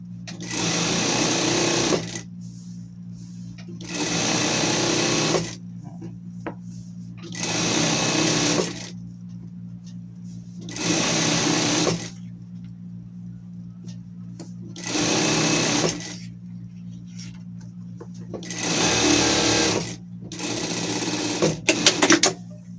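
A sewing machine stitches seams on a spring pet outfit set, running in six steady, evenly spaced bursts separated by short pauses, close and loud, with a low motor hum underneath.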